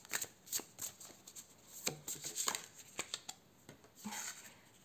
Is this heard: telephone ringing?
no